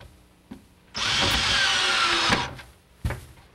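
Power drill driving screws into a door booth housing, a steady high whir lasting about a second and a half, with brief knocks before and after.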